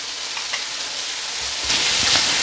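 Green chilies fry in a pan over lowered heat, giving a steady, fairly loud hiss of oil that swells slightly toward the end, with no voices.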